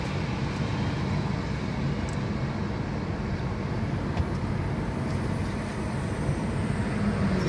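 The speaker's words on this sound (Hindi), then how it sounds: "देखिए ये कार बहुत ही अच्छा चलता है, देखिए स्मूथली चल रहा है।" A 2022 Tata Nexon rolls along the road with a steady, even hum of engine and tire noise, smooth and unbroken from start to end.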